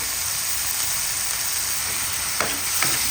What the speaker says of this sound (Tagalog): Ayan na po ang ating ginigisa, ang ating bawang, sibuyas, luya, at ang ating kamatis.